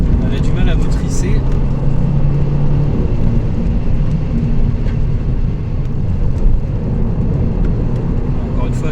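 An Audi TT MK2 2.0 TFSI with 200 hp accelerates hard under full throttle, its engine droning loud and steady from inside the cabin, with wind and road noise mixed in throughout.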